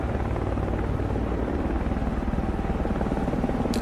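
A helicopter returning to base in the Cold Waters naval game throbs steadily with a continuous, loud rotor drone that stays close and even throughout.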